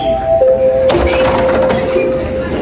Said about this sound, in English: The beginning and end of the lesson is accompanied by a pleasant sound.